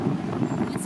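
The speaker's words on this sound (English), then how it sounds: "It's very windy" Gusty outdoor wind in New York buffets the microphone, making a steady, low, rumbling roar that fills the whole brief moment.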